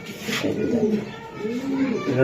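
A large grizzle pigeon coos in low, rolling calls, repeated a few times close by, while someone talks over it.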